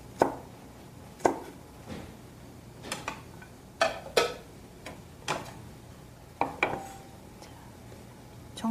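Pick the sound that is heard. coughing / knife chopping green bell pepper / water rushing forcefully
knife chopping green bell pepper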